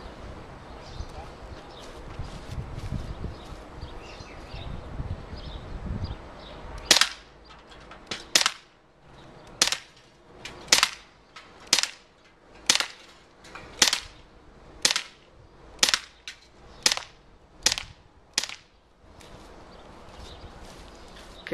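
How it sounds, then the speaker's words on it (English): A Colt Defender BB pistol fires twelve quick, sharp shots in an even rhythm. They come close and loud after a stretch of quieter background rumble. "So I'm going to do 12 quick shots"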